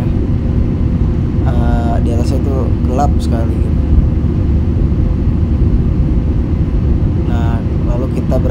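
Steady low cabin drone of an airliner cruising above clouds on a Jakarta to Samarinda flight, a constant broadband engine and air roar throughout, with brief voices speaking over it.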